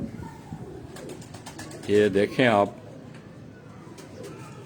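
Pigeons coo in a short burst of rolling, throaty calls midway through, close and clear, with someone speaking briefly nearby and soft background noise around.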